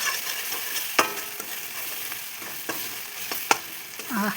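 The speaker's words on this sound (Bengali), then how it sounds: "দিয়ে মশলাটা ভালো করে কষিয়ে নেব" Spiced masala of turmeric and chili powder fries and sizzles in oil for a home-style chicken curry, with a steady crackle broken by a few sharp stirring knocks and scrapes, up close and with no talking.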